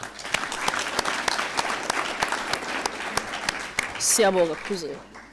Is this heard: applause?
yes